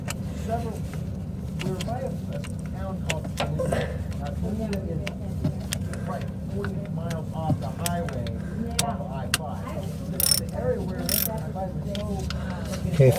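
A socket ratchet clicks in quick bursts while tightening the oil drain bolt on a Can-Am Maverick XRS side-by-side. The rapid ticking sits up close under someone talking throughout.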